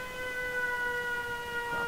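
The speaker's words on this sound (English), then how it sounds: "when I switch off the siren" An alarm siren inside the game Fallout 4, at the Red Rocket settlement, holds a steady multi-tone wail at moderate volume, unchanging throughout with no talking.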